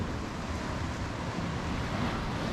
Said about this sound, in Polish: czyli ten plusk ten ta siła tej wody musi docierać aż tutaj